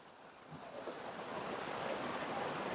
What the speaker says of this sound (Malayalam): ഇതിന്റെ മേലെയൊക്കെ നല്ല വെള്ളച്ചാട്ടം കേട്ടോ